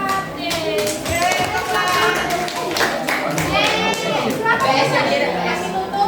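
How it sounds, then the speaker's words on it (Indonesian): A classroom applauds a student group after their presentation, a lively burst of many hands clapping steadily and close, mixed with children's chatter and voices throughout. "Beri aplaus untuk kelompok 4."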